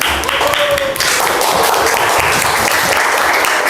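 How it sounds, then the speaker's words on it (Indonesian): A sixth-grade class gives a student group a burst of dense, loud applause, with many hands clapping together close by and filling the room throughout. "Tepuk tangan untuk kelompok."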